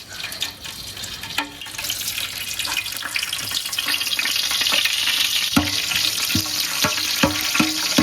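Whole spices, cinnamon, cardamom and cloves, frying in hot oil in an outdoor country kitchen for mutton nonbu kanji, giving a steady close sizzle with clinks of a stirring utensil against the pot and no talk.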